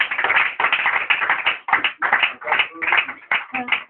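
A church congregation applauding, a close burst of dense hand claps that comes in uneven rhythmic waves with brief pauses, loud and without voices.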